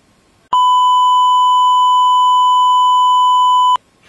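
A single loud, steady electronic beep holding one pure tone for about three seconds, then cutting off abruptly, during a sound-blasting investigation in Tasmania.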